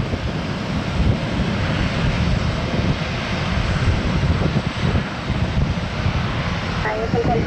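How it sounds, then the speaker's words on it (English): Boeing 757 jet taking off from an airport runway, a broad, steady engine roar heard from a distance, filling the whole stretch with wind-like rumble while voices speak over it. "it's the 757 rocket ship that's going to take off of 1 right"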